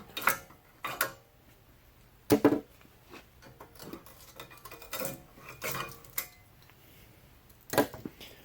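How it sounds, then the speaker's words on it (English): Brake pads are pried out of a 2001–2005 Honda Civic front brake caliper, giving scattered metallic clicks, scrapes and clunks separated by short pauses, with no talking. "So we'll pop the pads out real quick."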